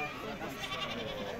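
At a busy livestock market, a sheep bleats faintly amid the crowd's noise, while people talk nearby and the general din largely covers the animal.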